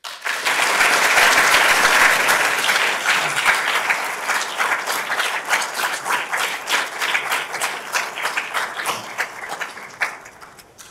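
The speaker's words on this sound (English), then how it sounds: "Please give another round of applause to Jennifer" Audience applause for Jennifer at a university student project showcase, a loud, dense burst of many hands that gradually thins into scattered, more distinct claps as it fades.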